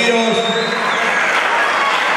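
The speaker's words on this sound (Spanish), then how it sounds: "Un aplauso para él" An audience at a youth football club's awards party applauds a prize winner with continuous, fairly loud clapping, and a voice talks over part of it.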